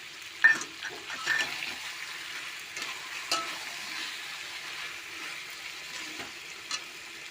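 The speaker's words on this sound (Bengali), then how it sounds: "বাটা মশলাটা দিয়ে দিলাম" A ground paste of ginger, garlic, green chili and onion sizzles in an oil pan for a home-cooked chicken curry, a steady soft frying hiss with occasional stirring scrapes and clinks.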